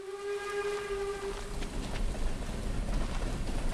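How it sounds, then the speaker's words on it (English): A train in Stardew Valley sounds its whistle in a long steady blast, then rumbles past with a broad clattering roar that grows louder, with no talking over it. "Oh, I'm actually here when the train's here."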